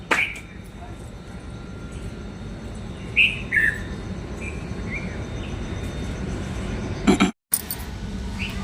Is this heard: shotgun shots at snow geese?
no